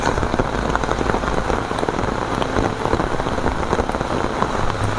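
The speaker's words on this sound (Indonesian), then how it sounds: "Hari ini hujan dan ini sudah terlanjur." Rain falls in a dense, steady patter of drops striking surfaces, continuous and close, with no voices over it.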